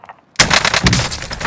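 Call of Duty Warzone gunfire on Rebirth Island: after a near-silent moment, a loud rapid burst of automatic fire starts abruptly and keeps going as a dense, close volley.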